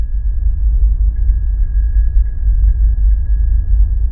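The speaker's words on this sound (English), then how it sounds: "And this is how a bicycle bell would sound on Mars." A bicycle bell processed to sound as it would in the thin carbon dioxide atmosphere of Mars, reduced to faint muffled dings barely rising above a steady low rumble.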